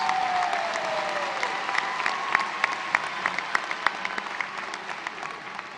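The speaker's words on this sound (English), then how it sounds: "Let's have a big round of applause for all of our graduates." Audience at the EIU 2023 spring commencement applauds the graduates, a steady wash of clapping with sharper individual claps and occasional whoops standing out, fairly even and moderately loud.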